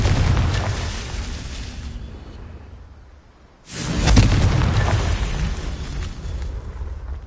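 Confringo spell explosions in a Harry Potter-style PS4 game, heavy booming blasts with rumbling tails, a loud burst fading to a lull, then a second sharp explosion swelling back up and rolling on loudly.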